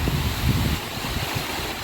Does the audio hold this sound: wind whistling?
yes